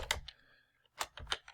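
Several quick key presses on a computer keyboard while typing code, short crisp clicks in two small bursts separated by a brief pause, close and quiet.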